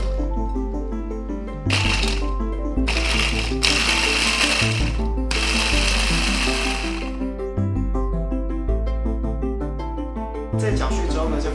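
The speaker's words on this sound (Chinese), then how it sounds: "之后呢，就用搅拌器把它搅碎。" An electric blender chops cauliflower and ginger in several loud, whirring bursts of a few seconds each, heard over steady background music.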